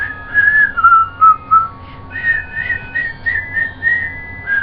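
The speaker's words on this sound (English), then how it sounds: "I like to just like whistle along to that, even though it's a Christmas song" A person whistles a clear, melodic Christmas tune close by, several sustained notes in phrases with short breaks, alone and without speech.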